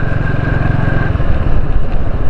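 A motorcycle rides along a newly levelled, not-yet-carpeted stretch of the Malir Expressway, its engine a steady, loud, continuous drone throughout with no talk over it.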